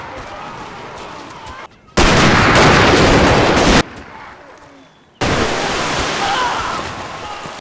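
Heavy gunfire from Confederate snipers in Total War's 1862 Battle of Fredericksburg crackles in dense bursts, alternating with quieter spells of distant battle noise, loud and continuous.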